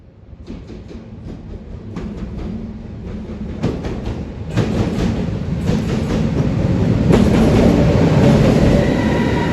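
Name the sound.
train approaching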